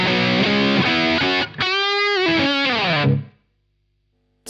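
Electric guitar driven through a Sonicake SHARK British high gain distortion pedal, heavy saturated chords and then bending lead notes with vibrato, loud and close, stopping abruptly into silence.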